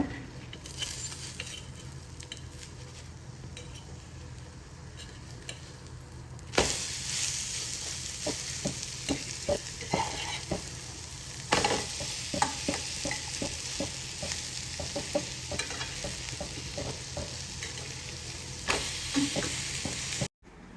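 Masala bread toast sizzling in a pan as it is flipped, a steady fry hiss broken by scraping and tapping of a spatula and a few sharper clatters, close and with no voices.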